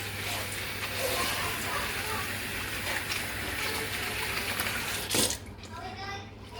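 Warm tap water runs steadily into a kitchen sink for washing, a continuous close splashing wash that cuts off near the end.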